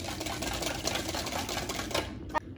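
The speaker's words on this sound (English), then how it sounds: "So now you have to whisk in your 1 cup of milk and the melted butter we melted earlier. And then whisk until smooth." A whisk beats milk and melted butter together in a bowl for corn muffins, a steady, fast, rattling clatter that keeps going throughout at close range, with one sharper knock near the end.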